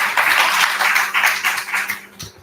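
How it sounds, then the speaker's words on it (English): A small group at a club meeting celebrating its 300th session gives a brief round of clapping, a few bursty pulses of hand claps close by that fade out within a couple of seconds. "So let's give us a big round of applause."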